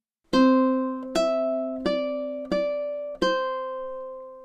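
Five plucked ukulele notes from the French folk song "Au clair de la lune" ring out one after another at an even, unhurried pace, each decaying slowly before the next.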